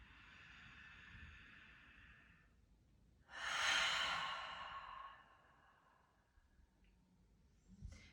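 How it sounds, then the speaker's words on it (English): A single deep, audible breath during a morning stretch session, a long airy inhale through the nose followed by a louder, fuller exhale through the mouth, close and clear in a quiet room with no talking. "Inhale through the nose and release it through the mouth"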